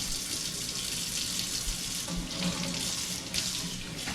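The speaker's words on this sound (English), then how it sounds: "And I'm going to use warm water," Warm water running from a kitchen tap while baking, a steady close hiss and splash that flows unbroken throughout, with no talk.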